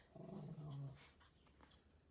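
An old dog growls low and steadily at younger dogs at close range and fairly loud, then fades into soft rustling and quiet shuffling.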